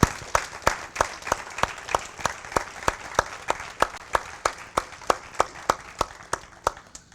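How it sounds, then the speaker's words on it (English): A crowd at a college signing event claps in a strong, steady unison rhythm, each beat a loud, crisp clap over a softer wash of scattered applause, continuing evenly throughout. "let's have one more round of applause for all our future TCAT students"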